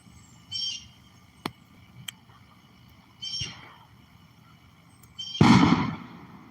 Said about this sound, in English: Dude, there's more fireworks